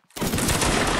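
A line of soldiers fires a musket volley in a Napoleonic Wars line-battle game, a sudden dense crackling roar that bursts in almost at once and stays loud and sustained to the end.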